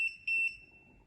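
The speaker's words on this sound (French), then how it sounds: "Pour démarrer le casque, il suffit d'appuyer tout simplement sur le bouton à l'arrière pendant 3 secondes." Start-up beeps from a Gamel motorcycle helmet after its rear button is held: three short, bright electronic tones in quick succession, the middle one longest, with a faint steady tone trailing after and no voices.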